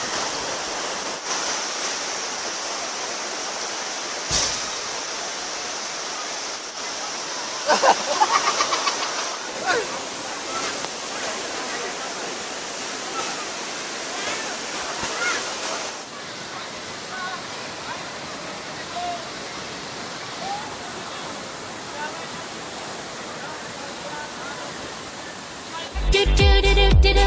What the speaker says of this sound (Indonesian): di belakang ada air terjun